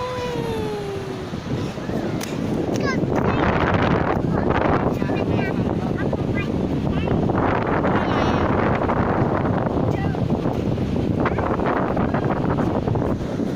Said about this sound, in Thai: ลมแรงมากเลยจะได้ยินเสียงหรือเปล่าก็ไม่รู้เนี่ย